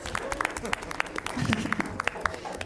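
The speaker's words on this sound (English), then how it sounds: "could we get one more round of applause for KZ and Tatum, our brand new members of S" An audience at a Student Alliance meeting claps for two newly sworn-in members, a scattered, moderately loud round of handclaps mixed with voices talking.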